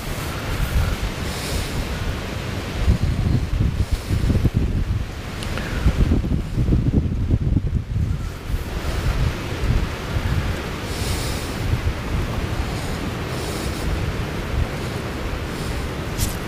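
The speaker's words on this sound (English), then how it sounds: "that wind is blowing my float" Steady wind gusts roar across an open microphone beside the water during a fishing outing, with buffeting rumbles swelling and easing throughout and no voices.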